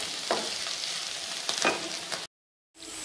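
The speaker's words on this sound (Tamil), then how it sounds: "இந்த கோவக்காயை நம்ம இரும்பு கடாயில் வதக்கினா ரொம்ப நல்லாயிருக்கும்." Ivy gourd sautéing in an iron kadai gives a steady, close sizzle and frying hiss, broken by a couple of stirring scrapes before cutting to a brief silence and resuming.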